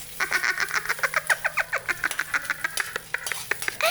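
Garlic and onion are sautéed and stirred in a pan for chicken pochero, heard as a rapid series of sharp scraping and clacking strokes from the utensil against the pan, close and rhythmic.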